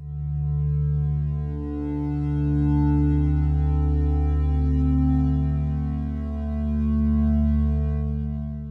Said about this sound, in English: So we've got this kind of quite static triangle wave